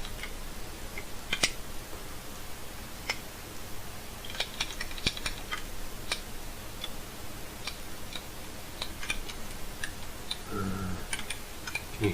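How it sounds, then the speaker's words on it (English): Clicky computer keys tap in scattered, irregular bursts while someone plays Ghouls 'n Ghosts on a keyboard in place of a gamepad, faint and close over a steady low hiss. "Can you hear my clicky clacking?"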